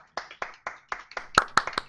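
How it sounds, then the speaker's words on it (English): A small burst of hand clapping, about eight sharp claps in an uneven quick rhythm, close and fairly quiet. "Round of applause!"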